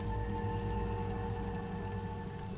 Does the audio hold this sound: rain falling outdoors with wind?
yes